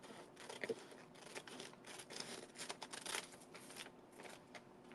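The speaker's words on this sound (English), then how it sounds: "So I'm just going to cut this across here." Scissors cut across a paper sheet in quick, close snips that run together into a soft, continuous crunching rasp, fairly quiet throughout.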